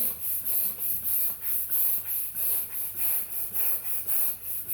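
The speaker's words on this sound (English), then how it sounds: "Let's test the balloon pump out, shall we?" A hand-operated balloon pump inflating a balloon gives regular airy whooshing strokes, about three per second, close and steady with no talking.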